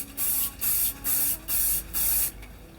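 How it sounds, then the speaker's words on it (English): Hairspray sprays onto styled hair in five short, even hissing bursts with brief pauses between them, loud and close, with no talking. "Going in with your hairspray,"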